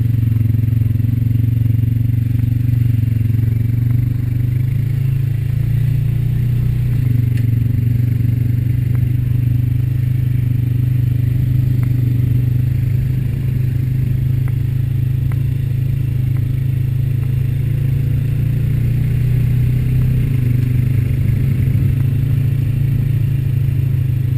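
Honda Rancher 420 ATV riding along a trail, a loud steady low engine drone holding throughout with faint clatter and rattles over it, no talking.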